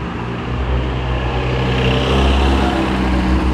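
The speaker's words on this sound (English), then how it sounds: "I've got another car coming up behind me." A car engine hums steadily close by as it comes up a hill behind a scooter, rising slightly in loudness as it approaches, with low rumble and no talking.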